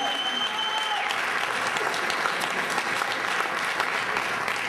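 Audience applause at the Kalani 2017 metal awards ceremony, steady dense clapping from a crowd throughout, loud and close with no pause.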